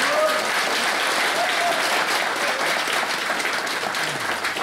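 A ceremony audience at an inauguration event claps loudly to welcome a guest monk, a thick, continuous roar of applause sustained throughout with a faint voice underneath.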